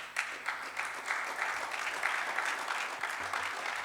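An audience at an electoral debate for a general council applauds after a speech, dense steady clapping at moderate level that carries on evenly for several seconds without talk.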